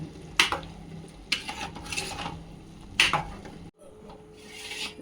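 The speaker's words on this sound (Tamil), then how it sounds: "இப்படி சல சலன்னு வேகுது" Tomato rice simmering in a single pot, giving a soft continuous bubbling and sizzling texture with a few sharper scraping or stirring knocks, close and moderately loud, no talking.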